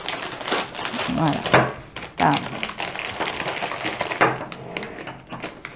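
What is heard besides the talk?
adhesive tape being peeled off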